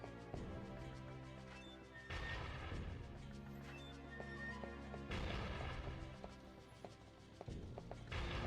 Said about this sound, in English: It's actually surprising we got as far as we did without an explosion.